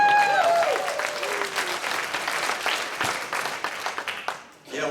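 Audience applause and cheering from a comedy show crowd, a dense sustained wash of clapping with some shouts mixed in, loud and continuous for several seconds before tapering off near the end.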